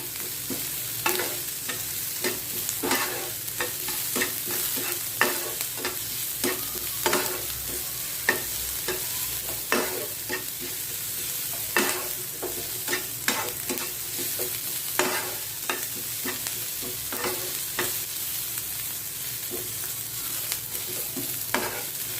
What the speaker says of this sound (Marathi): याची पेस्ट छान मिक्स करून घेऊ आपण